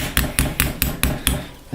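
Hammer striking a glove part to flatten it, seven sharp evenly spaced metallic blows in quick succession, close and loud.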